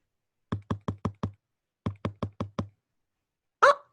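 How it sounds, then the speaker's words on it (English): A woodpecker pecking on a front door: two crisp runs of five quick wooden knocks separated by a short pause, followed by a single louder, breathier burst, with no talking. "Benny politely pecked on the front door."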